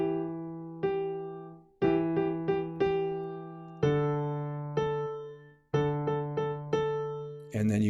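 Solo piano plays a slow Irish jig in 6/8 time, sounding sparse held chords and single notes in a lilting compound rhythm, clear and close with gentle decays between strikes.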